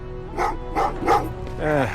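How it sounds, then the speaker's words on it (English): Dogs bark in the Terminator: Resistance video game, a series of four or so distinct barks in fairly quick succession, moderately loud, the last one drawn out into a whining howl, with no speech over them. "Oh, what's with the dogs?"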